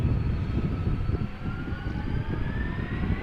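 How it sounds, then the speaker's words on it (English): A Delta Airbus A330-300 airliner at Amsterdam Schiphol gives off a steady, loud jet engine roar with a rising whine, continuous and fairly close throughout. "Delta Airlines Flight 135 Delta Airbus A330-300, destination Detroit."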